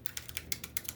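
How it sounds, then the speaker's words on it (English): Fingertips tap quickly on aluminium foil, close and quiet, in a quick irregular patter of crisp crinkly ticks with no voices. "So we'll do some foil tapping maybe instead of folding."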